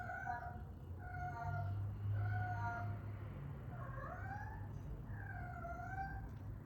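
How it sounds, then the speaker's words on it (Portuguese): A cat meows repeatedly, about six drawn-out, wavering cries at a steady pace, fairly close but not loud, over a low background hum. "Ó, meu gato."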